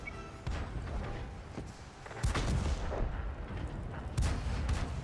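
Tank cannon fire in World of Tanks during a Halloween pumpkin event mode, with heavy booming shots around the middle and end, each leaving a long rumbling tail over constant battlefield noise.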